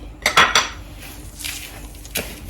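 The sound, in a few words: mixing sunflower, sesame and pumpkin seeds in a bowl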